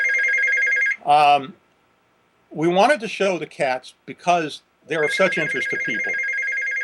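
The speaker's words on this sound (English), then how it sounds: "sorry for the phone in the background." A landline telephone rings in the background of an interview about mountain lions and cats at a rehabilitation center, with steady repeated ring tones before and after talk and faintly beneath the spoken voices.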